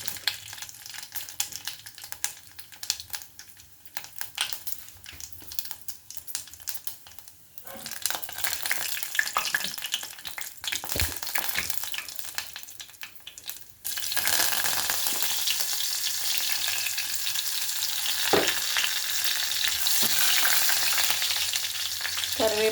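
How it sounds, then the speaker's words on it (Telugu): Shahjeera and a bay leaf fry in oil in a kadai, quiet crackles with occasional clatter at first, then a sudden loud, steady sizzle takes over and continues close up with no talk. "2 స్పూన్లు ఆయిల్ వేసానండి. షాజీరా వేస్తున్నాను."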